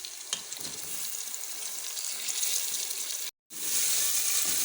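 Beef keema with crushed coriander, cumin and tomatoes sizzles and fries in a pan, giving a steady, close hiss with light stirring scrapes, briefly cut off before resuming louder.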